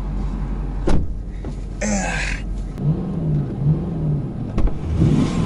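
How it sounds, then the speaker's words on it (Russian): A Porsche Cayenne engine revs as the SUV accelerates, driven by a learner, with a mid-pitched rising hum and a few thumps of cabin noise heard from inside the car. "Я уже газую!"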